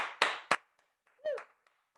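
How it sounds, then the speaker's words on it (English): Two quick, crisp claps from an online fitness class participant at the end of a workout set, followed by a short spoken voice, with near silence between. "give yourself a round of applause"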